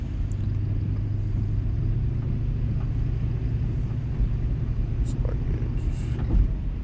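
Steady low rumble of road noise inside a moving car continues throughout, with a voice present over the drone.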